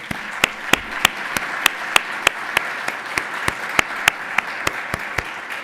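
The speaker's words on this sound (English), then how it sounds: "I'd like to give her and Mary Grace Gallagher, our symposium editor as well, a round of applause just for their work" Audience members at a law journal symposium keynote applaud together, a soft wash of clapping with a few louder individual claps popping out at a steady, rhythmic pace throughout.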